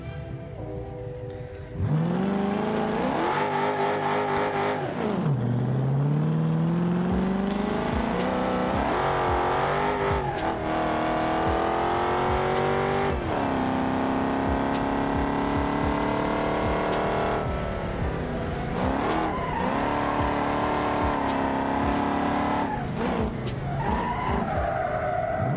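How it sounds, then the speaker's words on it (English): A car in the BeamNG driving game revs and shifts through changing engine pitches while its tires skid and squeal repeatedly, loud and continuous throughout with no talking. "start our car and just drive"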